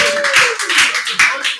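A comedy-club audience breaks into scattered, uneven clapping, a loose patter of hands over a steady room murmur, fading in and out across a couple of seconds.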